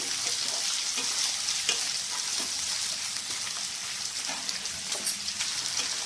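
Chopped onion with green chilies stirred and fried in a pan for chili paneer, a steady broadband sizzle with soft scraping strokes throughout, close and moderately loud, no voices.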